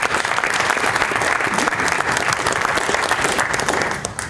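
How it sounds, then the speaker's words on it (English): Loud, sustained applause from a seated audience at a startup funding event in Helsinki, clapping for the panelists and judges, a dense, steady wash of hands that holds throughout with no voices standing out. "One more big applause to our panelists and judges."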